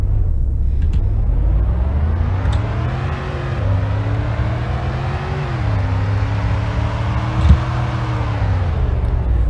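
A budget car in the Roblox game Greenville accelerates hard from a standstill, its loud engine drone climbing steadily in pitch through the gears, with brief dips at each shift and no talking over it.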